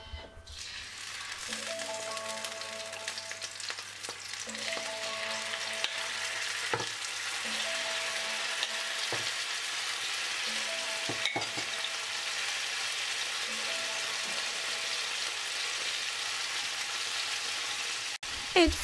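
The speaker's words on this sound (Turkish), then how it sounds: "Ve marine ettiğim balıklarımı dört taraflı birden güzelce kızarttım." Marinated salmon pieces fry in olive oil in a non-stick pan, a steady loud sizzle running throughout with occasional sharper crackles and stirring clinks, no talking.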